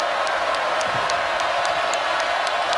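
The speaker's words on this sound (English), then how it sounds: "Crowd trying to get back fully engaged." Basketball arena crowd at a Miami versus Virginia college game, a steady broad roar of noise and murmur with scattered faint whistles or shouts, continuous and moderately loud throughout.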